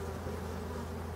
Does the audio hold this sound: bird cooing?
no